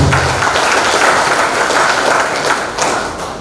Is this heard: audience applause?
yes